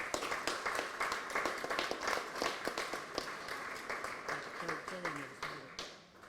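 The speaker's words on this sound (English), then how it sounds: "Round of applause." Crowd applause at the unveiling of Chris Alexander's Cortina rally car, a steady wash of many hands clapping throughout, moderately loud, with voices mixed into the crowd noise.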